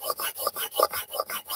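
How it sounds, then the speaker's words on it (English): Steel blade rubbed back and forth on the 400 grit side of a diamond sharpening stone, about eight quick rasping strokes in an even rhythm, close and fairly quiet. "So our diamond stone is cutting that. The 400 grit is the more aggressive side."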